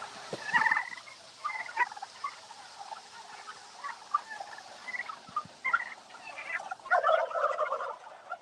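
A flock of turkeys on an Indiana turkey farm gobbles and chatters in scattered bursts, fairly faint and distant, with overlapping calls and a louder cluster near the end.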